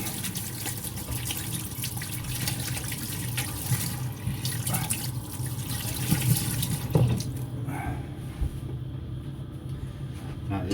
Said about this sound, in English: I'm just going to give my hands a quick wash